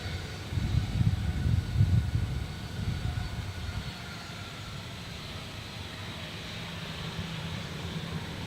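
An aircraft at Adelaide Airport pulls onto the runway, its engines a steady distant roar that swells briefly early on, then settles into a constant low rumble.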